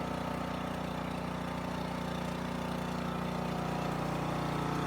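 A DR Power PRO26 brush hog runs with a steady, close engine drone and low mechanical rumble, holding an even pitch throughout with no talking.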